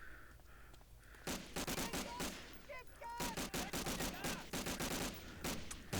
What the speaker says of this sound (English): It's just if people would stop shooting at me